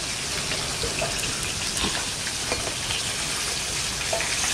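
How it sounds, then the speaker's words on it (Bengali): Mirik fish sizzles in oil in a pan, a steady crackling fry with scattered pops and spatters, fairly quiet and continuous, no voices. "এদিকে মা মাছ ভাজছে"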